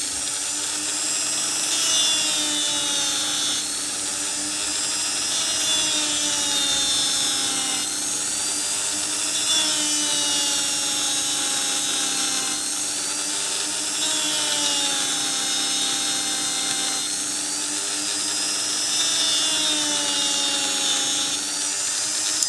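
An angle grinder fitted with an unreinforced cutting disc runs at its first speed, cutting through a Dacia car's wiper linkage, a loud steady high whine with the pitch dipping and rising in repeating cycles as the disc bites into the metal.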